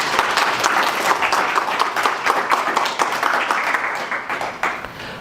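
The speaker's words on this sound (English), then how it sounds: "let's see a big round of applause" An in-person audience at an election analytics meetup breaks into sustained applause, a dense wash of many hands clapping steadily for about five seconds, with a few brief voices mixed in.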